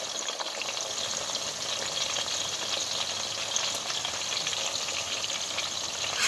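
Onions for a Nigerian tomato stew hit hot oil and sizzle loudly and evenly, a dense crackling hiss that stays strong and unbroken from start to finish, with no voices.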